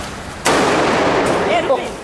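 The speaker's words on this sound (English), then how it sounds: "they're not just firecrackers, they're like explosives." A single sharp, loud blast of a firecracker in a Mumbai street during Diwali, followed by a lingering crackling rumble that fades slowly.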